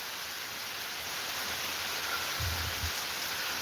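Heavy rain falls continuously outside, a broad steady wash of drops with a faint low thump partway through and no speech.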